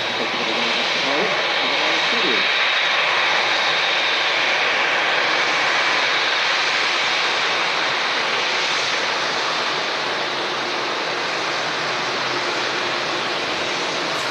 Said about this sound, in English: we have the Jet2 A330, the one remaining air tanker, coming in from Palma de Mallorca as well.